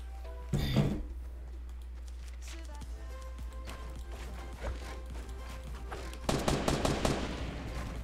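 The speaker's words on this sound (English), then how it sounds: "Is that you shooting?" Bursts of rapid gunfire from the Fortnite video game, a heavy volley near the start and another near the end, with scattered faint shots and clatter in between.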